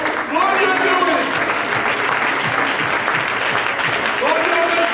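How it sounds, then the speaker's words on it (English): A church congregation claps hands loudly and steadily during a worship service, with voices speaking and calling out over the clapping throughout. "Can we give the Lord a hand clap?"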